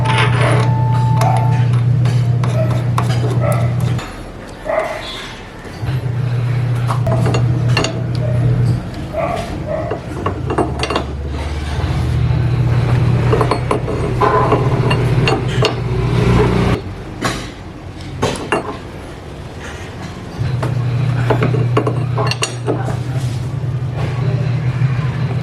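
Metallic ratcheting and clinking come from a lock nut being fitted and wrenched tight on an Easyride 150P motorcycle during a ball race replacement, with irregular close clicks over a steady mechanical hum and a voice speaking intermittently.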